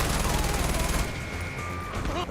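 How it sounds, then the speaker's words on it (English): Heavy rapid artillery and gunfire in the video game Diablo IV, loud and dense bursts that drop away midway into a lingering battle din, with voices partly mixed in. "It's actual artillery."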